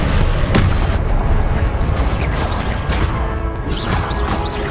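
The Confringo explosive spell in Hogwarts Legacy goes off as loud, booming blasts and crashing bursts. They pile up continuously over dense game noise at a steady high level.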